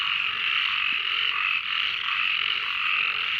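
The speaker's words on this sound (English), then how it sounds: "Hey, froggies." A chorus of mating frogs croaks at night in a continuous, trilling drone, loud and nearby, holding steady without pause and with no talking.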